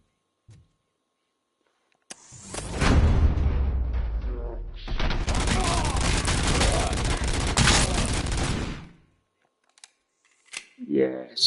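Gunfire erupts in the RoboCop: Rogue City video game on PS5, a sustained burst of rapid, loud shots lasting several seconds after a single earlier report, with brief voice sounds at the end.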